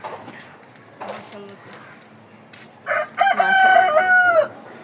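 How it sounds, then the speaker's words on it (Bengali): A rooster crows loudly near the end, a long wavering call, after softer clucking and background chatter. "দেখেছেন মুরগির ডাক কার কার ভালো লাগে এই মুরগির ডাকটা আমার তো খুবই ভালো লাগে"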